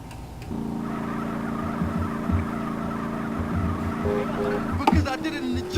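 A steady, droning motorcycle engine in GTA San Andreas hums throughout, its pitch held fairly even, with a brief swell and revving shift near the end.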